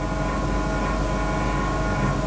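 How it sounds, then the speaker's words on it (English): A train sound effect triggered by a livestream gift plays loud and continuous, a dense rumbling roar with sustained horn-like tones throughout. "Nani ametuma train?"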